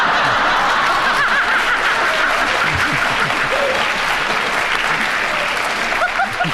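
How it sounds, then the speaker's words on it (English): Studio audience at a radio panel game show applauding, a dense continuous burst of clapping mixed with some chuckles and laughter. "Do you notice they all clapped then?"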